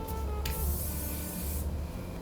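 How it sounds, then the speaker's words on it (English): A thermal flat iron heat protectant spray is misted onto hair in two short bursts, the second a longer hiss of about a second, loud and close, with no talking. "So I'm using this thermal flat iron spray."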